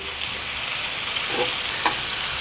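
Shrimp for risotto sizzle steadily in a hot pan, a continuous bright frying hiss with a couple of soft clicks as pieces are turned over partway through.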